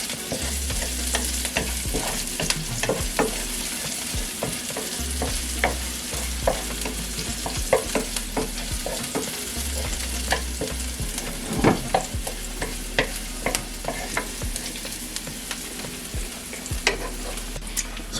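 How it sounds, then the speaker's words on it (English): Green seasoning sautéing in a pan for chicken and shrimp chop suey, a constant close sizzle broken by regular scraping and stirring strokes, with no voices. "And we saute these as usual."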